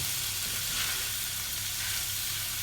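Ground meat for moussaka browns in a hot pan with a dense, even sizzle that holds steady throughout, close and unbroken, with no talk.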